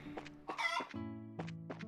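Chickens cluck repeatedly in the video game Trails in the Sky SC, a run of short, near, fairly loud clucks and squawks over a steady droning game background hum.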